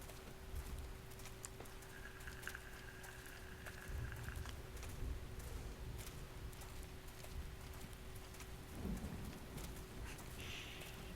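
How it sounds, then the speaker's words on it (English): Steady rain falls in the video game Xenoblade Chronicles X, a soft continuous hiss with low rumbles of distant thunder beneath, faint and unbroken by speech. "The rain's starting to let up, just in time for sunrise."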